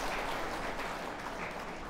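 A crowd of lay devotees claps at a Buddhist dhamma gathering, giving steady, dense applause that holds evenly for the whole stretch with no voices over it.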